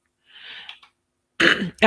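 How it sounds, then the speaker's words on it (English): A person clears their throat with a short rasping rumble and a brief catch, followed after a pause by the start of speech. "I've got to clear my throat a moment"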